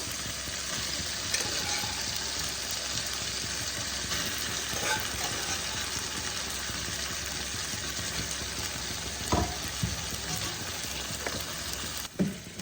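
Sprouted black chickpeas for a Bengali-style kala chana ghugni sautéing in a pan give a steady, close sizzle and frying hiss that runs throughout, with a few soft spoon knocks near the end.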